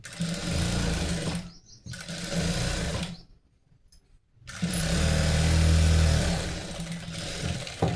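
A sewing machine stitches a blouse in loud, close, rapid mechanical whirring runs, stopping briefly twice before running again at full speed.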